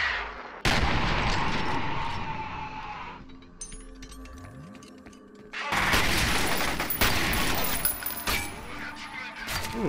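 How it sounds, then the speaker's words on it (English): Gunfire in the shooter F.E.A.R. comes in loud dense bursts with a quieter stretch in the middle, then heavy firing resumes, all close and overpowering. "someone's shooting me in the back"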